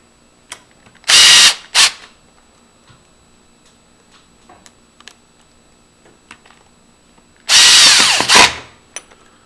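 A power drill drives two screws to mount a Grade 2 storeroom-function lever lock, two loud whirring bursts near the start and two more later, separated by quiet clicks and handling noises.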